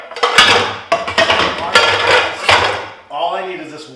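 Metal pots and pans clanging and scraping as someone rummages through a kitchen cabinet, a series of loud close bangs and clatters followed by a brief spoken remark.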